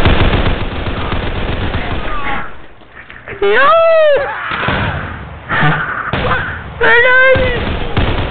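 Gunfire crackles in loud, harsh bursts, close by, mixed with raised voices shouting and yelling in rising and falling cries between the shots.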